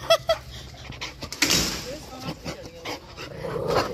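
A dog gives a few short, close barks and yips, with muffled indoor noise in between.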